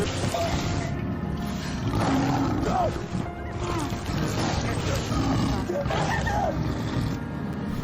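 A tiger gives repeated growling roars during a movie chase scene, loud and layered over a dense, tense score with bursts of action noise.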